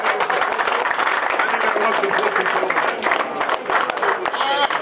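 A crowd at a firearms store event gives a loud, close round of applause, dense clapping filling the whole stretch with some voices mixed in.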